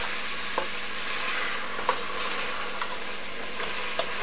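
Food tossed in oil in a hot pan sizzles steadily while a utensil stirs through it, leaving a few soft scraping knocks spaced every second or so.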